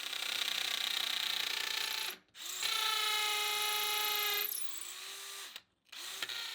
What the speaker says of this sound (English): I also started with the hammer drill because that has a lot more control than the rotary hammer